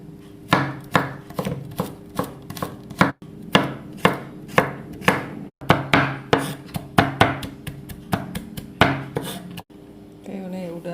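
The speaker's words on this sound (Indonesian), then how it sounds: "Ini mau saya cincang-cincang ya." A knife chops vegetables finely on a board at home, with a long run of sharp, evenly spaced knocks close by and two brief pauses.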